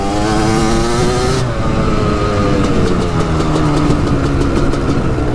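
A Kawasaki Tecate 4 250cc two-stroke quad runs loud and close in second gear, its buzzing engine note holding steady, then easing down in pitch, with no talking over it.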